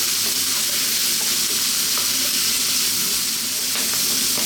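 Chickpeas with cumin powder sizzle loudly in a hot pan, a steady, dense frying hiss with faint scrapes of stirring.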